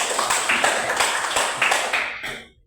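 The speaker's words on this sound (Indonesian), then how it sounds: "kita berikan tepuk tangan buat" An audience claps in a room after a group finishes presenting, a short burst of dense, rhythmic applause that fades out quickly.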